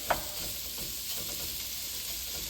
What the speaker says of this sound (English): I'm going to put that in there and let that sizzle a little bit.